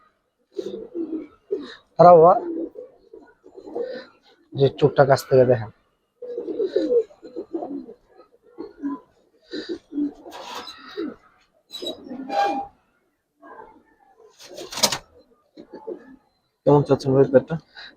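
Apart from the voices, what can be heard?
pigeons cooing, old-breed Giribaz silver pigeons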